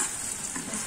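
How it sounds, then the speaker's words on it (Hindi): Chopped tomatoes drop into browned onions frying over a low flame in a pan for a ridge gourd (tori) sabzi, giving a steady close sizzle with soft stirring scrapes and no voices. "इसे हम लो फ्लेम पे करके इसमें जो हमने टमाटर चॉप किए थे वो इसमें ऐड कर देंगे"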